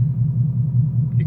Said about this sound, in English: It's got a nice little lopey rumble to it